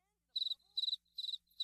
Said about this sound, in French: Y a des cigales là dehors ou c'est juste vous qui êtes mal à l'aise?